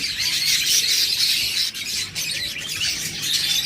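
Budgerigars chirp and squawk in a dense, continuous chatter from an aviary of breeding birds, including big albino budgies, the high twittering steady throughout with no talking.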